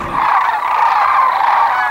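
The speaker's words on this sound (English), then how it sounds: "the cry of the crane" Sandhill cranes give loud, rolling, trumpeting cries that carry on without a break for about two seconds. No voices are heard.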